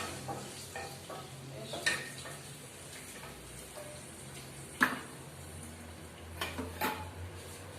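Garlic, onion and ginger frying softly in a pan, a low steady sizzle with occasional utensil clicks and scrapes from stirring, quiet and close with no talk.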